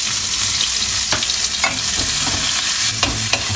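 Onions frying in a pan over medium heat alongside already-fried potatoes and carrots, a steady loud sizzle with a few sharp stirring scrapes breaking through, no voices.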